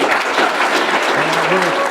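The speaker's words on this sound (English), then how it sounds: "give Chief Moody a warm round of applause" A conference audience gives Chief Moody a warm round of applause, a dense, steady wash of clapping throughout, with a voice briefly heard underneath.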